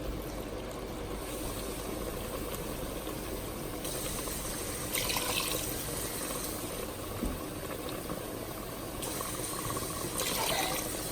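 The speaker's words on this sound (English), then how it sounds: "So you're gonna add 3 cups of water." Water poured into a pot of stir-fried chicken curry cooking on a village fire, giving a steady liquid rush and sizzle with brief louder splashing surges, close and continuous with no talk.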